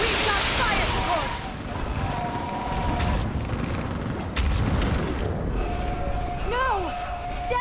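Artillery fire support pounding in the Mass Effect 3 video game, heavy rolling booms and blasts layered with whistling and whooshing effects, loud and continuous, with brief voices in the mix.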